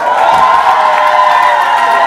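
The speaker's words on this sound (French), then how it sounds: "On applaudit pour eux." A large crowd at a wedding ceremony cheers and applauds steadily, a dense, loud wash of clapping and voices with scattered whoops.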